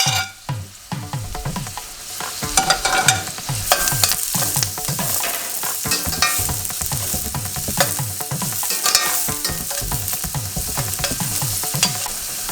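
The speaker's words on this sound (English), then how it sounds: "Add chopped ginger and garlic. Add green chili and some curry leaves." Chopped ginger, garlic, green chili and curry leaves fry in a pan for a spicy shrimp roast, a constant close sizzle punctuated by a long run of regular scraping stirs against the metal.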